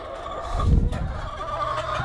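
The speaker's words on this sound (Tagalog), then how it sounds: "So, yan yung mga nangingitlog nating manok." Laying hens clucking close by, a low rising burst of fowl calls followed by softer scattered clucks against a steady background hum.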